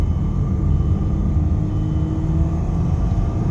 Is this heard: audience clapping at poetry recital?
no